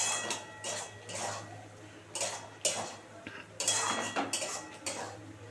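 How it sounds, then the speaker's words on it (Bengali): A utensil stirs and scrapes poppy seed paste frying in a pan. Irregular metallic clinks and scrapes repeat at close range against a low steady hum. "একটু ভালো করে কষিয়ে নিই।"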